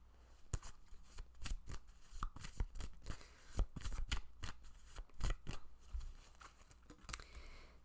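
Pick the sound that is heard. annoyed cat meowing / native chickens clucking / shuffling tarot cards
shuffling tarot cards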